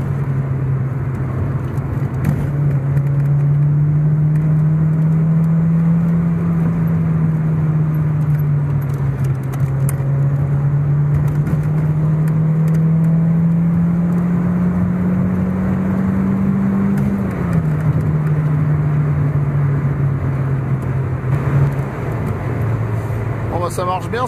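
A youngtimer car speeds up hard along a country road, its steady engine drone rising and falling in pitch with gear changes and road noise close by throughout, and a voice talks at times over it.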